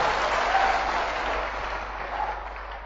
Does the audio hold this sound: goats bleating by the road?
no